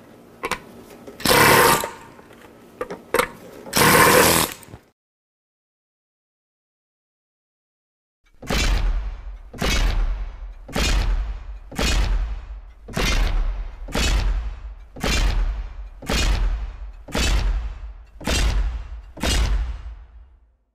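A hammer strikes a hard hat about a dozen times in steady succession, each blow a loud, sharp thud with a short ring; an earlier burst of noise precedes a few seconds of silence before the impacts begin.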